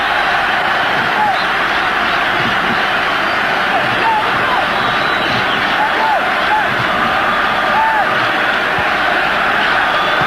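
A dense, steady roar from a football stadium crowd cheering Zambia on against Nigeria in 1994 fills the background while a commentator talks over it.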